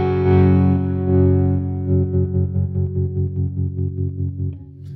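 A JHS Kodiak guitar pedal in sine wave mode with the blend turned fully up: a sustained electric guitar chord that starts smooth, then pulses in an even, rapid tremolo throb before fading, with no talk.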